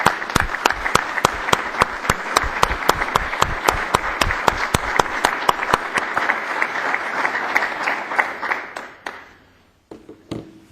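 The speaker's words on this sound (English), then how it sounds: "I think now would be appropriate to give them all a round of applause" At a Lompoc city council special meeting, a small audience claps for the council candidates with distinct, rhythmic individual claps that keep a steady pace before tapering off and stopping near the end.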